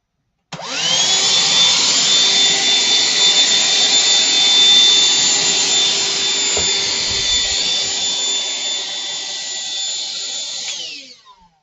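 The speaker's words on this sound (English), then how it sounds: "one of these, or a little hoover, does come in handy" A small handheld hoover runs continuously for about ten seconds, a loud steady high-pitched whine as it sucks excess static grass from the edge of a model railway layout, starting and stopping abruptly.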